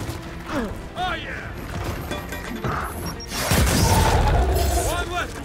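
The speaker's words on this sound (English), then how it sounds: "What the fuck was that explosion?" A battle explosion in the video game Gears of War bursts with a loud, broad boom partway through, among clanks and weapon noise, while someone speaks over the game sounds.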